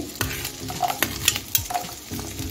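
Carrots stirred into fried onions in a pan for vegetable soup, a close sizzle with a few sharp spoon knocks and scraping strokes against the pan.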